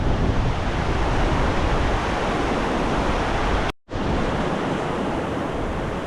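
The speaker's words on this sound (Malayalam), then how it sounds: "താഴോട്ട് പുഴ ഇങ്ങനെ ഒഴുകി പോകുന്നൊരു കാഴ്ചയും കാണാം" Broad, steady rushing of river water flowing past a small, narrow culvert bridge, loud and continuous with a brief dropout near the middle.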